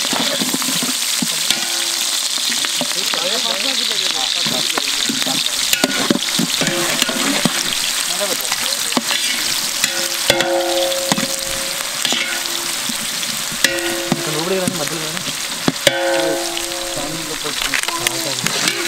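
Onions and green chillies frying in hot oil for village-style bagara rice give a steady, dense sizzle throughout, with occasional stirring clinks and a voice talking intermittently underneath, close and fairly loud.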